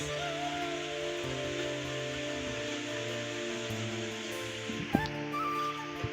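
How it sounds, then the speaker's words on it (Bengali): Rain falls steadily in a soft, faint, continuous patter on the last day of the monsoon month of Ashar, with a low constant hum underneath and no voices. "বৃষ্টি পড়েই যাচ্ছে"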